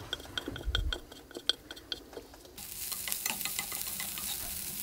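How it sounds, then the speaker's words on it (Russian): A spoon scrapes and clinks in a pan while onions sizzle as they are stirred, with a louder steady frying hiss taking over partway through. "Лук при обжаривании помешиваем."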